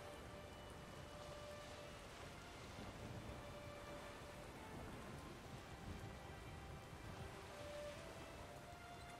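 Steady, dense rainfall in the video game The Witcher 3: Wild Hunt hisses continuously at a soft level, with a faint tonal hum running beneath it and no talking.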